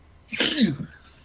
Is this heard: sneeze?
yes